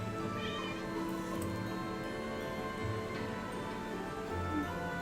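Cat meowing indoors, a long drawn-out plaintive yowl with sustained wavering tone, close and fairly loud, continuing almost without break.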